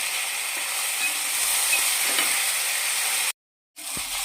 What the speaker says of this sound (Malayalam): 2 പച്ചമുളക്, പിന്നെ സവോള ഒരെണ്ണം നന്നായിട്ട് അരിഞ്ഞത് എല്ലാം കൂടി ഒന്ന് മിക്സ് ചെയ്തിരിക്കുക.